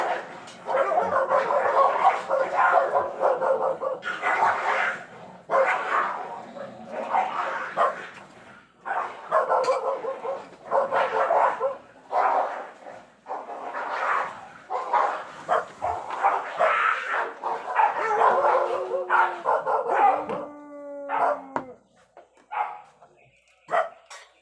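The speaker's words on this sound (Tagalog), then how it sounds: "Nag-away yung mga aso dito sa aming mga kapitbahay." Neighbours' dogs fight and bark, with repeated barks, yips and whimpers in bursts at moderate distance, mixed with a person speaking over them throughout.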